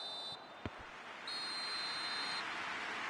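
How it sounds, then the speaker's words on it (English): A referee's whistle blowing for half-time in a PES 21 football match, heard as two long shrill tones separated by a short gap, over steady stadium crowd noise with a brief thump between them. "The whistle goes for half-time."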